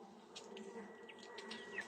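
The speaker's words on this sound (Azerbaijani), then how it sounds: "Üzərindəki arılara baxın." A steady, low buzzing hum of many honeybees on a honey frame placed outside the hive fills the air, with occasional brief, higher passes of individual insects flying close by.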